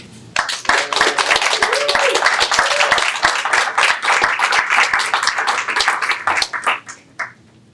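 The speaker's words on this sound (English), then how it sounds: "Could everyone in the room give a huge round of applause for the staff at NHA?" An audience at a 2020 graduation ceremony breaks into loud, close applause, dense rapid clapping that starts abruptly, holds strong for several seconds, then thins out and fades near the end.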